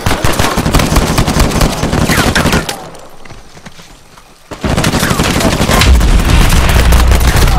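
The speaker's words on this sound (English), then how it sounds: "How about a grenade for your troubles?" Loud gunfire and blasts from an Uncharted 4 multiplayer firefight, including a grenade explosion, with a brief lull in the middle before dense shooting resumes.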